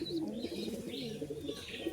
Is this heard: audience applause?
no